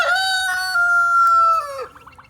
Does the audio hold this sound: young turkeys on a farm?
yes